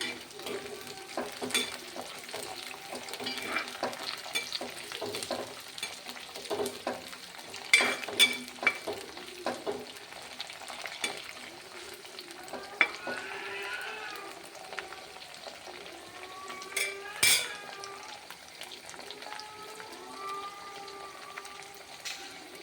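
Lemon pickle is stirred in a frying pan, a low constant sizzle with scattered scraping and clinking strokes from the spoon, close and unhurried, with no one talking.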